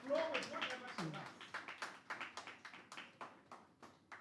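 Participants in an online meeting welcoming a speaker with a short patter of handclaps, a few distinct claps close and clipped, fading into a sparse rhythmic tapping after a brief voice at the start.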